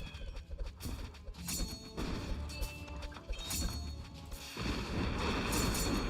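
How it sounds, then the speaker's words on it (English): Explosions from missile bomblets in a chaotic video game, a cluttered barrage of overlapping bursts and crashes that repeat several times over, with game music and effects layered densely throughout. "Look at those bomblets hitting multiple times over."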